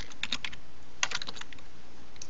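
Typing on a computer keyboard while entering text in Photoshop: a few quick bursts of light key clicks, close and clear, with short pauses between them and no talking.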